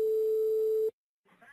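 Telephone ringback tone on a call, a single steady electronic tone held for just under a second before cutting to silence, followed by faint talk.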